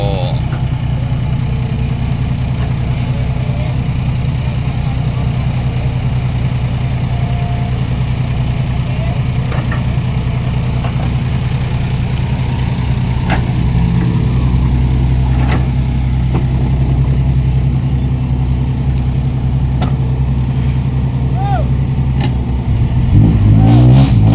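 A stuck truck's engine roars in a deep mud pit as a backhoe pushes it out, holding a loud, steady low drone that swells into a heavier rev near the end.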